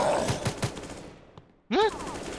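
A rapid string of sharp gunshots crackles in the Roblox game Infection Gunfight at the start, followed by a brief pause and a person talking.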